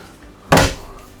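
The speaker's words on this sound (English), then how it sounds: "very solid feeling door" A solid door on a YYachts Y7 sailing yacht shuts with a single firm, close thud and a short decay, heard on its own without talk.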